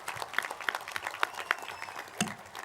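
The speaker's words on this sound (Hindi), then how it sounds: "जोरदार तालियां इन दोनों बच्चों के लिए" A small audience claps for two children, a moderate, uneven patter of hands with a few sharp louder claps standing out.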